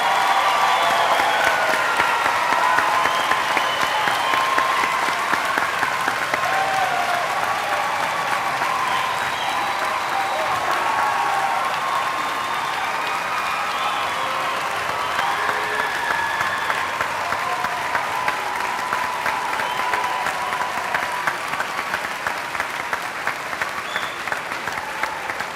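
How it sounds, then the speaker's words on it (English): Sustained applause from a large audience honoring graduates at a 2010 university commencement ceremony, steady and full across the whole stretch with no talk over it. "Let us now recognize these students with our warm applause for their outstanding educational achievements."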